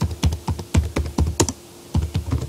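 Steady, rhythmic keystrokes on a computer keyboard while Java code is entered in NetBeans, with close, punchy taps at a quick, even pace and a brief pause near the middle.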